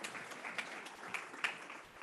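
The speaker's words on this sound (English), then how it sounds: "A round of applause, please." An audience at a 2021 BC Liberal leadership candidate dialogue applauds with steady, dense clapping heard from some distance, as a continuous wash with a few louder individual claps standing out.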